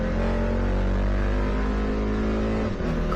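A race car engine at a Sunday endurance race at VIR drones steadily and loudly with layered harmonics, holding a continuous note under power with a brief dip near the end.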